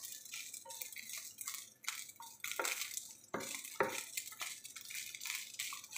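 Garlic fried rice being stirred and tossed in a pan, with repeated scraping and clinking of a utensil against metal over a soft sizzle, close and steady with no talking.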